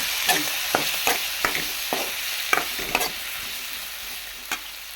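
Tomatoes sautéing in a pan for sambar, stirred with a spoon: a steady sizzle of frying with about eight sharp scraping clicks spaced irregularly, close and moderately loud, no talking.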